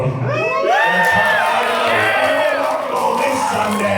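A convention panel audience at Anime North cheers loudly, a sustained roar of shouts, whoops and high-pitched yells from many people filling the room.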